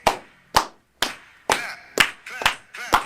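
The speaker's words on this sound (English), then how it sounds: "Everybody Clap your hands." Sharp hand claps land in a steady, evenly spaced rhythm, about seven in three seconds, each clear and close with short gaps of quiet between them.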